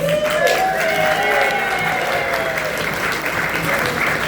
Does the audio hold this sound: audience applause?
yes